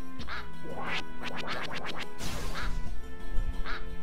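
Duck squire quacking in the Gryphon Knight Epic video game, a burst of rapid repeated quacks followed by a few scattered calls over steady game music.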